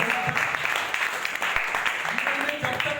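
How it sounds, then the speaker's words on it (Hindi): An audience at a motivational business talk breaks into steady, vigorous clapping that holds for a few seconds, with a voice speaking over it. "एक बार जोरदार ताली बजाएंगे"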